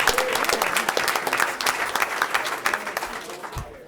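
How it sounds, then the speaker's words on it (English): Loud, dense applause from an audience at a school board of education meeting, sustained clapping with no break before fading near the end. "So give them a round of applause"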